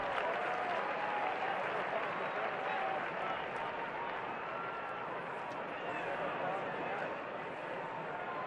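A capacity crowd at Fenway Park for a Red Sox home opener baseball game cheers and applauds in a continuous, dense roar heard from a distance, with a commentator talking over it.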